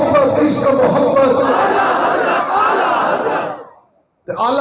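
Large crowd at a religious gathering chanting slogans in unison, loud and dense for about three and a half seconds before fading out, then a brief burst resuming at the end.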